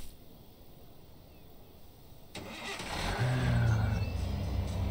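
A car in the video game Thief Simulator pulls away, its engine rising in a revving surge midway through and then holding a steady, fairly loud drone.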